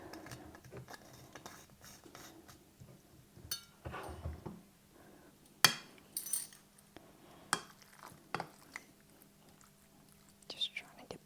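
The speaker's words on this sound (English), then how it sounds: "Let me just mix this in all together here while I have the spoon is dirty." A spoon stirs sauce into wonton soup ingredients in a bowl, soft scraping and scattered clinks with a few sharper taps, quiet and close, while a person talks softly between them.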